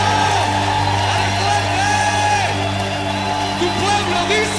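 A church congregation cheers, whoops and applauds during a worship service, a loud sustained wall of voices and shouts over a steady low hum, with a few raised voices rising above the crowd.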